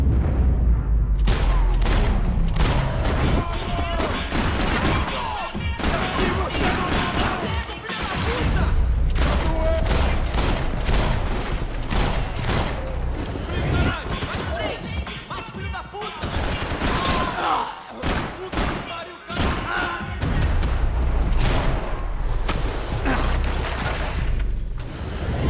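Max Payne 3 gameplay fills the scene with relentless gunfire: dense bursts of automatic fire, single shots and heavy booms rattle on almost without pause, loud and close, with only a few brief dips.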